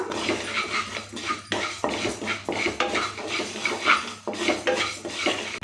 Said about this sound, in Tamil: கடையில் நம்ம எடுத்து வச்சுருந்த பாசிப்பருப்பை சேர்த்துக்கலாம் சேர்த்துட்டு இது நல்லா செவக்க வறுத்துக்கலாம்